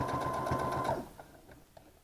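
A sewing machine stitches dots onto fabric with a fast, even mechanical whir and rapid needle thumps close up, then stops, leaving a few scattered clicks.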